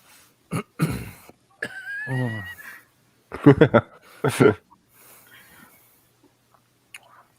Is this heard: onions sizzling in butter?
no